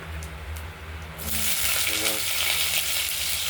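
Potatoes go into hot oil with cumin seeds and a dry red chili, and a quiet pan bursts into a loud, dense hiss of frying that keeps on steadily.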